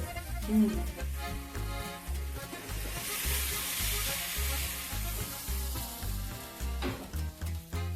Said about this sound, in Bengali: এবার এটাকে আমি একটু গরম করে নেবো গ্যাসে